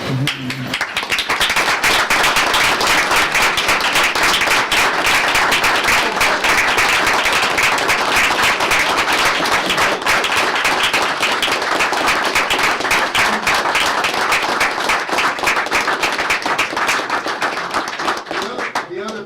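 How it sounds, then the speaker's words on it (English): Sustained applause and clapping from an audience at a Batavia public school meeting for the football players and their coach, dense and steady throughout at close range. "And don't applaud me, but applaud these guys."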